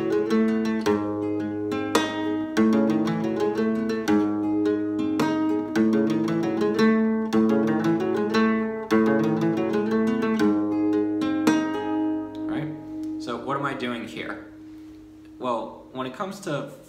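Flamenco guitar plays a traditional old-school falseta phrase in soleá, with rapid plucked runs and strummed chords in a driving rhythm, close and prominent, and the playing grows looser and sparser near the end.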